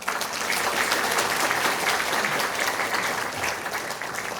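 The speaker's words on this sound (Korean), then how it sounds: "여러분 박수 한번 주시죠" Steady applause from an audience at the opening of a regional council policy forum in Korea, dense and continuous clapping holding at an even level throughout.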